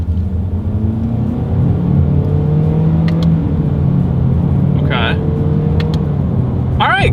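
A 2022 Honda HR-V with a CVT accelerates gently during a paddle-shifter test, its engine a steady low hum and road rumble heard from inside the cabin, with a few brief clicks or chimes near the end.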